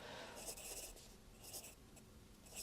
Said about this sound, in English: I'll just write this down because I will forget.